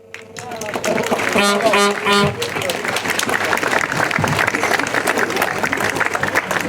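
Crowd applause for primary school pupils at a Pust carnival event in Morsko rises after a brief sung passage and then holds as a dense, steady clapping texture, with voices mixed in.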